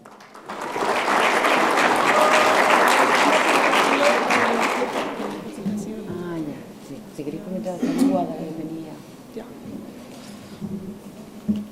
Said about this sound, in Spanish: a quien recibimos, por supuesto, con un fuerte aplauso